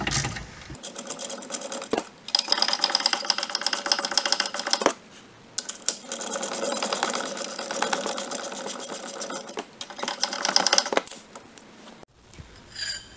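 Front brake caliper bolts on a 2001 VW Golf TDI being run out with a power tool, heard as two long, loud rattling bursts of whirring and clatter separated by short pauses, close up with no talk.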